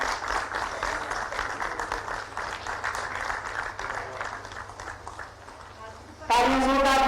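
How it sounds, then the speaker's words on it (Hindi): Crowd applause at a government award ceremony where athletes are honoured: steady clapping rolls on under a loud speaking voice on the public address, then a sudden burst of louder sound cuts in at the end. "तालियां जोरदार हो"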